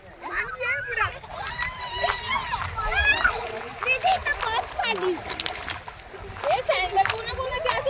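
Kids splash and play in the Valkas River, with bursts of water splatter, sloshing and excited children's shrieks and voices close by, mixed with the steady babble of river water throughout.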